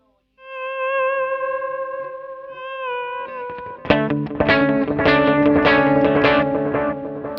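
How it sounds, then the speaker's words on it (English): Electric guitar through the Minson M8 multi-effects pedal with delay turned up: sustained clean notes ring out, then a burst of strummed and picked phrases repeats in echoing delay trails, loud and close. "let's hear the delay up just for a bit of fun"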